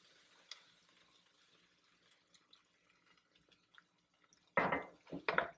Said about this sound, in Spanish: Y ahora sí le agrego el agua.